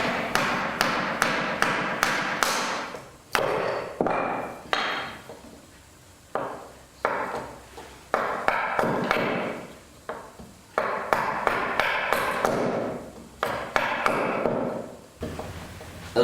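Oak wheel pegs being rounded with a chisel, a close series of sharp wooden taps and chopping knocks in irregular bursts, some quick and clustered and others spaced, with brief quiet gaps and no talking.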